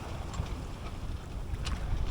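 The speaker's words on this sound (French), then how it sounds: "Et voilà le doux bruit du moteur." A sailboat's motor runs steadily with the sails down on the way back into Cherbourg, a constant low rumble mixed with wind and water noise close to the microphone.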